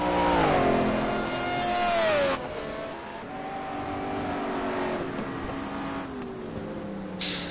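A Ford Martek race car revs hard on the Algarve circuit during a Black Cup race, its mid-pitched engine note climbing and falling through gear changes as it passes, loud and continuous with no voices.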